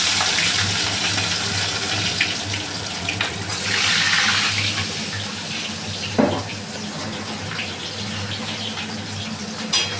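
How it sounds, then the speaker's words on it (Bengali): Onions sizzle in a pan of hot oil with black cumin, mustard seeds and panch phoron, a steady, loud hissing crackle that goes on alone without talk. "এবার পেঁয়াজটাকে ভাজা ভাজা করে নেব।"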